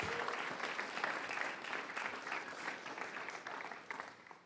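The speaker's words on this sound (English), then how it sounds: "I'd love to give a round of applause for our speakers tonight." Sustained applause from an evening audience thanking the speakers at an entrepreneurship and innovation event, a dense, steady wash of many hands clapping that tapers slightly toward the end.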